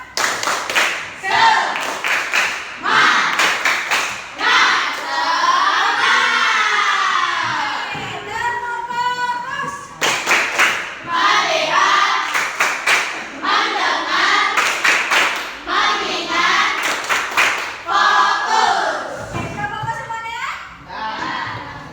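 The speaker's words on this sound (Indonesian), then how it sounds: "Ayo, anak ibu, coba tepuk semangat." A class of schoolchildren claps a rhythmic spirit-clap pattern in quick bursts, shouting and chanting along between the claps, with a teacher's voice leading the room.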